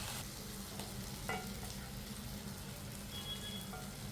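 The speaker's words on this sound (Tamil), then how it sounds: "கொஞ்சம் மல்லித்தூள் வெள்ளம் போட்டு நல்லா வறுக்கணும்" Sweet potato pieces with coriander powder fry in a pan, giving a faint, steady hiss of sizzling with a low background hum and a few light scrapes.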